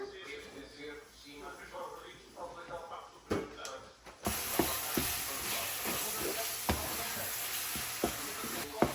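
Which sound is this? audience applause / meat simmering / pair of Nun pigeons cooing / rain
meat simmering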